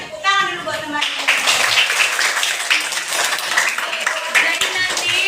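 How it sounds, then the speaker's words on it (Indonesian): A classroom of students clapping for their classmates, a dense patter of hands that starts right after a brief voice and carries on steadily to the end. "Tepuk tangan dulu buat teman-teman"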